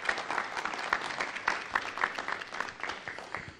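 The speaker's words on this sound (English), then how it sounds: "Jack, give him a nice round of applause" Dense, continuous applause from a city council meeting audience, with many hands clapping at once in a steady, moderately loud wash for the whole stretch and no clear speech.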